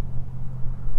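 A Toyota Supra engine runs steadily at idle, a loud continuous low rumble with buffeting wind noise over it and no pauses.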